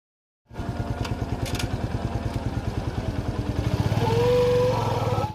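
Yamaha FZ version 2 motorcycle, reconditioned, under way with a steady, close engine note that builds slightly in pitch and loudness as it accelerates, and no one speaks over it.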